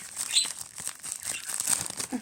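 Plastic wrapping on a delivered package crinkles and rustles as it is torn open, a steady close-up scratchy rustle for about two seconds with no voices.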